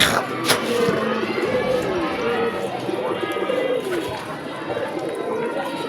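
Pet pigeons cooing in a small home loft kept as a hobby flock of about a dozen birds, soft repeated coos mixed with bird chatter under steady background noise and some voices.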